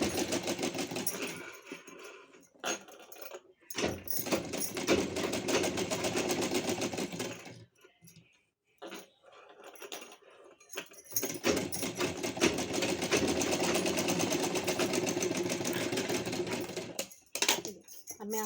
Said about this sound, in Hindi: यहाँ से अब हमें स्ट्रेट पूरा स्टिच करना है।